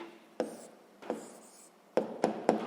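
Pen writing down an answer on paper, a few short scratchy strokes close by, two separate ones and then a quick run of three, quiet and with no voice.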